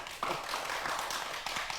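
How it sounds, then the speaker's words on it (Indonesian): A small group claps during an indoor podcast chat, with a few sharp, uneven hand claps at close range over a soft room wash and no voices on top. "Boleh tepuk tangan nih buat saya"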